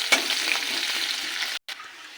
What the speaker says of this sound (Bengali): পেঁয়াজ কুচিটাকে ভেজে নেব।